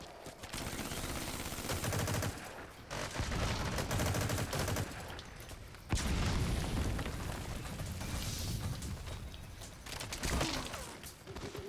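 Rapid gunfire bursts and booming explosions from the online shooter game Metal Gear Solid Online, dense and continuous with a brief break near the middle, loud throughout with no audible talk.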